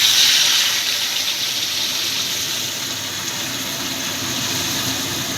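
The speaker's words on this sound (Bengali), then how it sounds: "পরিমাণ মতো গরম জল।" Hot water poured into a pan of thin katla fish curry, a steady rushing pour of liquid heard close and alone, easing slightly after the first second.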